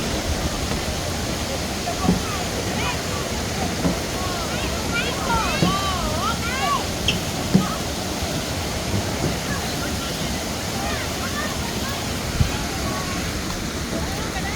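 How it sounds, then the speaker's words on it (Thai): Water at the Tad Yuang waterfall in Laos pours in a constant broad rush, with faint voices and occasional chirps over the steady roar. "เป็นน้ำตก"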